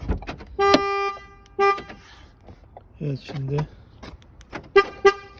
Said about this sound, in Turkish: Hırsızlık alarmı.